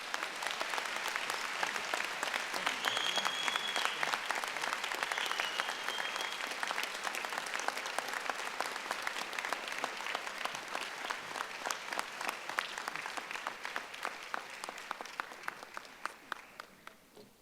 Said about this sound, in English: Please join me in giving another round of applause to Governor Hogan